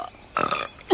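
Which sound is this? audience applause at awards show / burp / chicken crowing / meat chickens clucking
burp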